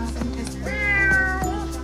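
A 14-year-old cat meows at the vet, several drawn-out, wavering cries in quick succession, loud and close in a quiet room.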